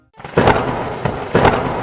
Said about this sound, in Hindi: एक रात बहुत जोर की बारिश होने लगी।